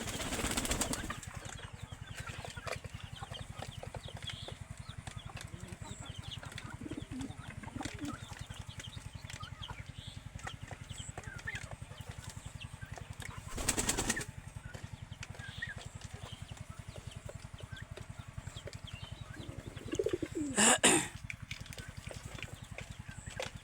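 Pigeons at a farm coop, with low cooing and rustling across a quiet background and a couple of short bursts of wing flapping, moderately close.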